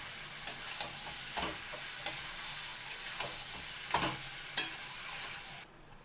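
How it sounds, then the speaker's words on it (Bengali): Chicken with ginger-garlic paste and ground pepper being stirred in a pan for a red chicken kosha: steady close sizzle with a series of sharp spoon scrapes and clicks, quieting at the end. "একটু গোলমরিচের গুঁড়ো দিয়ে দেবো,"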